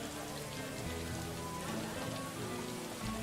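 Light rain plays as background ambience from a web sound tool for a tabletop fantasy game scene outside a tavern, a soft, steady patter of drops hissing evenly and faintly throughout.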